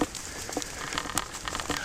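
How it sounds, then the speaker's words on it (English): Rain falling steadily in a wooded park, a soft continuous patter with scattered close drops and crackly splashes, no voices. "And it's still raining."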